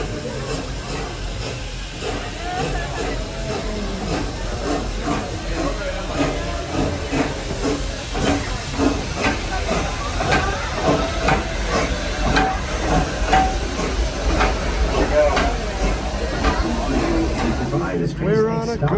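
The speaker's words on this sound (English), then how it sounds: "Might be time for the Holly Jolly Express. The train is coming." The Holly Jolly Express train at Busch Gardens Tampa's Christmas Town rolls in with steady steam hiss and rhythmic clacking wheels, loud and continuous, while people talk nearby.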